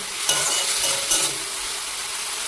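Spice paste being stirred and fried in oil for a vegetarian potato and pointed gourd curry, a steady loud sizzle with a couple of scraping stirs early on, no talk.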